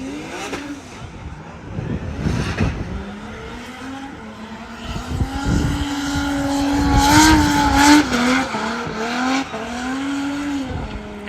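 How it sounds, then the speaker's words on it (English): A left-hand-drive BMW E30 drift car runs through practice at a Cyprus drift championship event, its engine roaring and rising with tires squealing and skidding. The sound stays loud and close, swelling in the middle as the car slides around the track. "Next car coming down is Christos Gouda. He's racing E30 of Pavlos Samaras"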